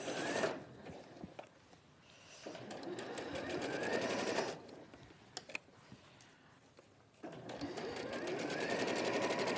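A sewing machine stitches a row of seam beside a zip, its quiet mechanical whirr running in three separate stretches with short stops between them and soft talk in the background.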